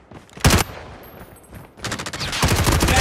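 Gunfire in the Call of Duty video game: a loud close burst, a short lull, then sustained rapid automatic fire crackling on to the end.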